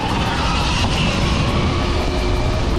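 A HiKNIGHT GTX1 electric bike runs at full throttle outdoors, giving a loud, steady, unbroken roar of motor and rushing wind that holds level for the whole stretch.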